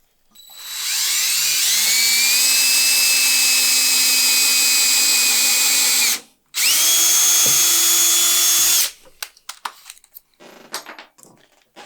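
Power drill boring small holes for wall-mounted shoe shelves, two loud sustained runs of steady whine, the second after a brief pause, followed by scattered light clicks and handling noises.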